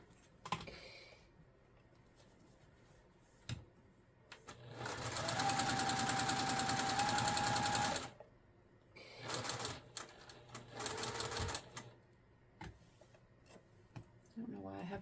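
Close sewing machine stitching a quilt seam in one steady run of about three seconds, then shorter bursts with clicks and handling noise, while someone talks in the quieter gaps.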